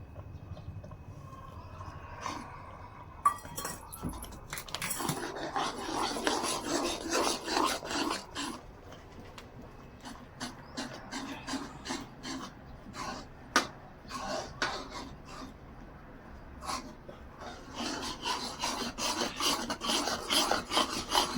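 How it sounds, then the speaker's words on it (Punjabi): A ladle scrapes and stirs semolina in a wok while making gulab jamun, giving repeated close rasping strokes in uneven bursts, with a few sharp knocks against the metal and no talking. "ਚੰਗੀ ਤਰ੍ਹਾਂ ਕੜਛੀ ਮਾਰਨੀ ਉਦੋਂ ਤੱਕ ਆਪਾਂ ਇਹਨੂੰ ਸੂਜੀ ਨੂੰ ਕੜਛੀ ਮਾਰੀ ਜਾਣੀ"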